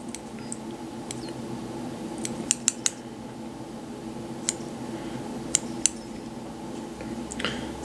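Scissors snip at fly tying material for a micro crab fly, giving scattered sharp clicks and cuts, some in quick pairs, over a faint steady background hum.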